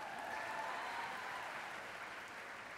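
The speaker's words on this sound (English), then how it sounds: "yeah, you can clap for that." A conference audience applauds at the 2021 Power and Purpose Conference, a steady, very faint wash of clapping that runs throughout and slowly fades.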